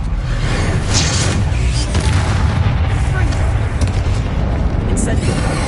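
Bombarda explosion spell cast in the video game Hogwarts Legacy, a heavy rumbling boom that fills the whole stretch, loud and dense with speech mixed over it.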